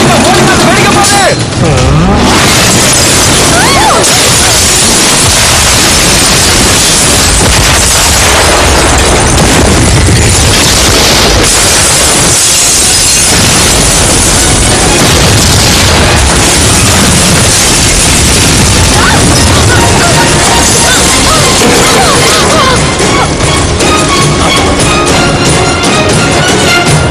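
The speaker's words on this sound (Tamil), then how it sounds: "வெடிக்க போகுது." A loud, dense action-game scene with a blast and booming bursts amid roaring vehicle engines, heavy continuous noise throughout, with shouted voices mixed in.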